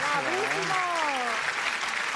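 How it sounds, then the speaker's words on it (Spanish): Applause fills the clip as a dense, steady wash of clapping while someone speaks loudly over it. "Aplauso para ella baja Mirai"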